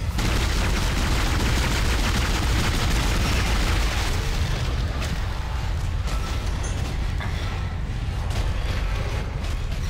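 Gunfire and blasts from the sci-fi horror video game Dead Space form a dense, loud, continuous roar of shots and booms with no clear gaps, heard on its own without talk.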